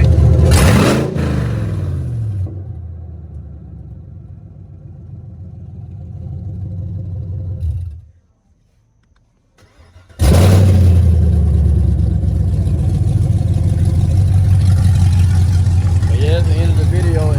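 Loud 2017 Chevrolet Camaro SS V8 fitted with Speed Engineering headers, roaring through a sharp rev, settling briefly, cutting out to near silence, then bursting back into a sustained loud rev with a deep rumble.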